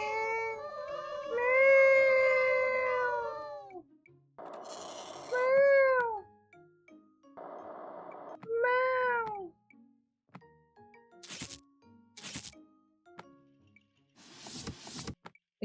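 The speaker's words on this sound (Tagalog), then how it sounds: "so we have a pusa here." A cat meows repeatedly and loudly close by, several drawn-out, wavering calls with short pauses between them, followed by a few sharp clicks or knocks at the end; no one talks.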